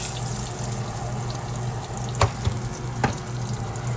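Green tomato slices frying in oil in a pan, a constant soft crackling sizzle with a couple of sharp pops and clinks midway.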